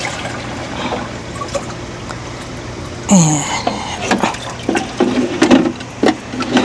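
Water poured over onions in a garden bed, splashing in short uneven bursts through the second half, with a brief spoken word and steady outdoor background hum.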